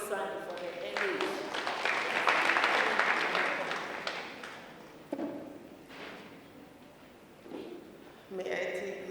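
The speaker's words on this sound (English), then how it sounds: "Let's applaud Memorisani for the LA." Applause from a seminar audience rises and swells for a couple of seconds, then thins into scattered claps and speech as an announcer takes over.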